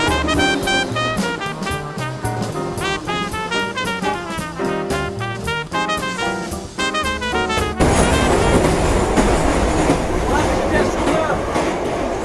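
A metro train in Yerevan, Armenia, runs with a loud continuous rumble and rhythmic clatter, a melodic announcement chime pattern over the first part, then broad roaring noise as it moves, heard from inside.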